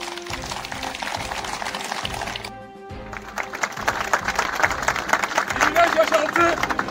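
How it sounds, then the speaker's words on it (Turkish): Workers at a DİSK union rally in İzmir clap together, a dense crowd applause that briefly drops out and then returns louder and fuller, with voices and crowd noise mixed in. "Alkışlar arkadaşlar."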